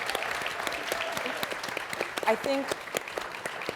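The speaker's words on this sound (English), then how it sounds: "Can we get a round of applause for our girl?" A seated audience at a mental health panel on online creators gives a steady round of applause for a young woman, the clapping sustained throughout while a voice speaks briefly over it.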